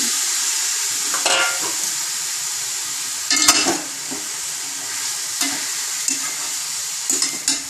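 Cooled cooked rice being stirred into a spiced mixture in a hot pan for a kids' feast, with a steady frying sizzle and periodic scraping stir strokes, close and fairly loud, no talking.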